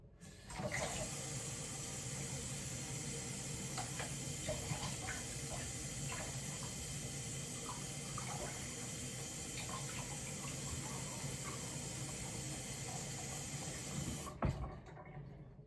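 Water runs steadily from a tap to fill a homemade water squishy, a continuous rushing hiss lasting about fourteen seconds that stops abruptly with a brief clunk.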